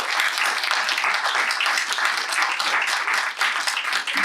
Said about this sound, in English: Can we have a massive round of applause for our panelists?